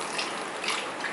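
Vinegar poured through a funnel into a bottle for a balloon experiment, a steady close trickling liquid stream with a brief swell partway through, no talk over it.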